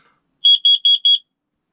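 Four quick, piercing high-pitched smoke detector test beeps in an even rhythm, loud and close, with silence before and after.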